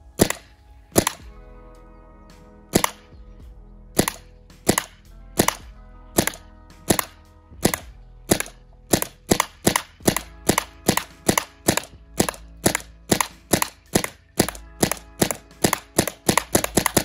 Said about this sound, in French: On va commencer par tirer dans la copie du masque Scott.